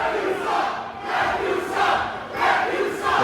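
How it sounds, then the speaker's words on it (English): Wrestling crowd at an independent pro wrestling show in Hialeah, Florida, jeering the referee, with loud rolling waves of shouting and booing from a packed room, rising and falling in several surges. "The crowd giving a hard time to referee Adrian Paz."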